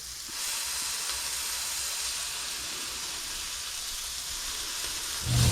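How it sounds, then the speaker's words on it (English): A Juicy Lucy burger patty searing in a pan, a loud, steady close sizzle that hisses evenly throughout and swells slightly at the end, with no voices. "We're gonna get a good sear on the bottom"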